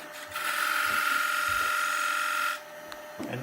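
A skew chisel cuts a bead into a spinning brush handle on a wood lathe, giving a steady, close scraping hiss with a bright whine that runs about two seconds and then stops, and no one talking.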